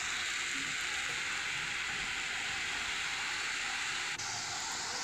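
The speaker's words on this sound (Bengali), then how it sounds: "সুন্দর করে এটা কিন্তু ফ্রাই করে নিতে হবে।" Ginger-garlic spice paste sizzles steadily in hot oil for a Bengali taro-leaf and hilsa-head dish, a close, even crackle that runs unbroken throughout without talk.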